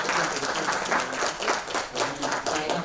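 A forum audience at the Jeju Forum gives sustained applause, a steady crowd of clapping hands with a faint voice beneath it, lasting the whole stretch.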